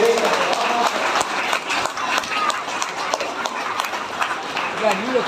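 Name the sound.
audience applause at an award ceremony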